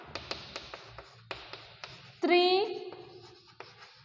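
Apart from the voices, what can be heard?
writing on a board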